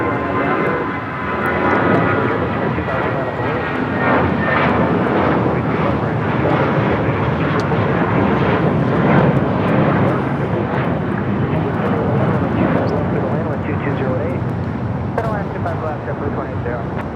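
A large jet airliner taking off from runway 25 right at LAX, its engines producing a loud, steady broadband roar that holds for the whole stretch, with a faint radio voice underneath.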